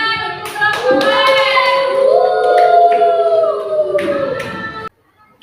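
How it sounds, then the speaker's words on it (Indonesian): Rhythmic hand clapping during a lesson, a series of sharp claps in a regular beat that runs alongside loud voices chanting together, then stops abruptly. "Tepuk tangan untuk gelombang."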